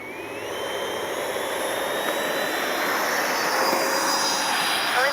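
Freewing F-22 90mm RC jet spooling up for takeoff with flaps set, a loud steady electric ducted-fan whine with rising tone and broad rushing roar building close by, no talking.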